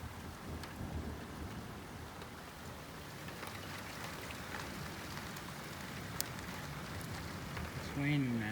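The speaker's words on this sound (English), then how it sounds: "It's raining now." Steady rain falling outdoors, a constant even hiss with a faint far rumble of thunder and no voices.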